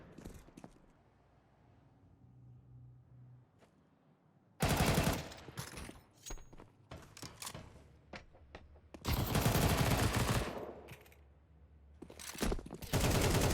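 Bursts of rapid gunfire in a Counter-Strike match, with a couple of long sustained volleys and scattered single shots, loud against quieter background play.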